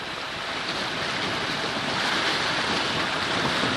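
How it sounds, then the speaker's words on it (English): Continuous rushing of waves slapping against a boat's hull on a bay, mixed with strong wind buffeting close to the microphone. "Very windy, waves are splashing against the side."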